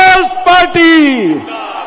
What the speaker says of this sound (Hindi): तो मेरे साथ नारा लगाइए